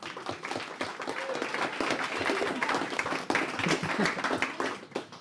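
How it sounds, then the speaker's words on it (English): A concert audience applauds after an operatic aria from Mozart's The Marriage of Figaro, with steady, dense clapping that carries on evenly for several seconds at moderate volume. "Round of applause."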